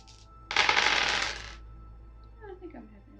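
Dice tumble and rattle across a table in a board game, one loud clattering burst of about a second with a little quiet talk afterward.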